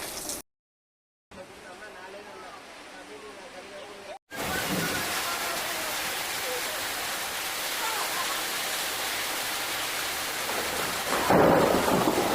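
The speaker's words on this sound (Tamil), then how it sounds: "எங்கள் ஊர் சிதம்பரத்துலலாம் நல்லா மழை பெய்யுது." Heavy rain pours down steadily with rolling thunder in Chidambaram, a dense loud hiss that briefly drops out before returning stronger and swelling toward the end.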